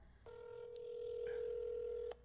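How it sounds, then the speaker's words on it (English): A telephone placing a call: a steady dial tone holds loud and alone for about two seconds, marked by a couple of faint keypad blips, then cuts off. "So I am calling him right now."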